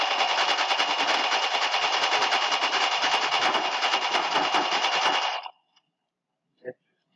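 A video-game machine gun fires a long, loud, unbroken burst of rapid shots for about five seconds, then stops abruptly, leaving near silence broken by one brief click.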